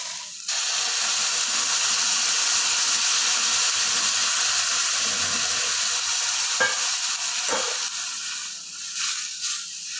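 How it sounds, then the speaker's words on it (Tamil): Loud, steady sizzling and hissing from a hot pan after water hits it while making kesari, continuous throughout with a few scraping clicks near the end. "இப்போ பாருங்க தண்ணி விட்டுடலாம்."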